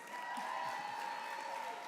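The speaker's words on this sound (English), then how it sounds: "Let's all give him another applause." An audience at an awards luncheon applauds, a soft, distant, continuous patter of many hands clapping that stays even for its brief length, with faint voices under it.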